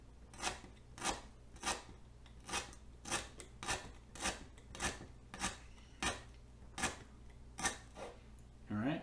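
Shun paring knife slicing through a stalk of lemongrass, giving a steady run of about fourteen crisp, rasping cuts at an even rhythm, close and fairly quiet, with a faint background hum.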